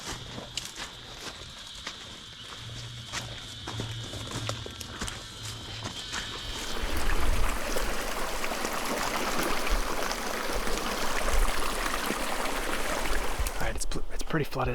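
A flooded creek rushes in a steady broadband wash that swells louder partway through, with footsteps tramping through the wet ground nearby and no talking.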